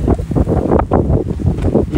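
Gusty wind buffets the microphone outdoors in downtown Sebring as rain begins to sprinkle, a loud, continuous rumbling roar that surges and dips in uneven waves with no speech.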